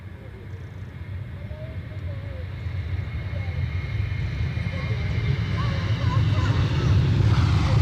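A Ryanair airplane at Edinburgh Airport roars with a low, steadily building engine rumble that grows louder toward the end, mixed with wind noise and a faint distant tone.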